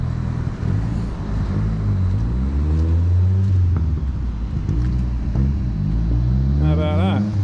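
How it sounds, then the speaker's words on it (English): A Ford RS200 kit car fitted with a Z-Tech turbo engine revs up and down in several rising and falling sweeps close by, with someone talking over the engine noise. "Running a Z-Tech turbo engine in that"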